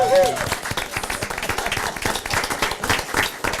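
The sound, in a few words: round of applause at council meeting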